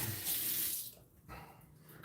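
A tap runs during wet shaving, a close splashy hiss of water that cuts off partway through and returns more faintly.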